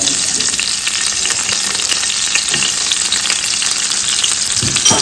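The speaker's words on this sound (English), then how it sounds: "Guys, we'll go ahead and add our chopped onion," Chopped onion fries loudly in hot oil in a pan for a gizzard and plantain dish, a dense, steady close sizzle with occasional stirring, no talking.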